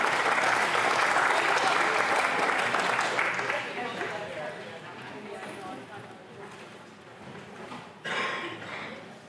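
An audience applauds to welcome a speaker at a building water-safety seminar, a strong burst of clapping that gradually fades over several seconds, ending with a brief renewed patter.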